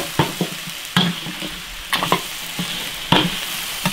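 Goose pieces are stir-fried in a wok with oyster sauce and soy sauce. A spatula strikes and scrapes the pan in sharp, uneven clanks over a continuous low sizzle, close and fairly loud.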